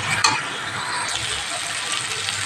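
Masala with whole green chillies sizzles steadily as it is stirred and fried in a pan for cabbage egg curry, with a brief scrape near the start and a close, even frying hiss throughout.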